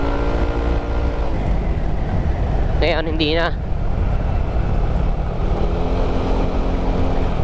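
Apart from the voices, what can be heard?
engine running with a balanced connecting rod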